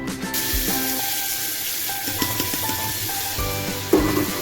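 Chopped onion and tomato sizzle steadily in a little oil in a kadai, with a continuous frying hiss and a few clinks, no talking.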